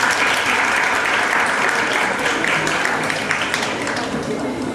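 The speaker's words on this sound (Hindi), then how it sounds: "तालियों से मेरी छात्राओं का और सभी छात्रों का एक बार स्वागत कीजिए।" An audience applauds throughout a World Hindi Day celebration at a university event, welcoming student speakers; steady, dense clapping from a sizable crowd with a faint voice underneath.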